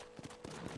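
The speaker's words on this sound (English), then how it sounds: "Horses are over here!" Faint, brief hoofbeats of a horse clip-clopping in the western video game Red Dead Redemption, a few soft thuds quietly in the background.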